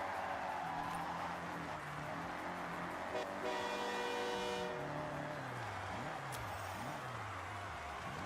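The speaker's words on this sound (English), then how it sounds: "Get out the way, the train is coming through." In the Forza Horizon 6 racing game, a train rolls past while its horn blares a long, loud, steady blast, set against continuous engine and rail rumble with a car engine rising and falling underneath.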